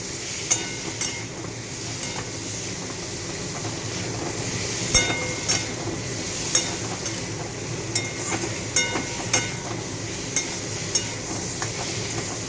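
Fish curry with katla fish sautés in a pan, a steady close sizzle under repeated stirring scrapes and occasional clacks of the spoon against the pan.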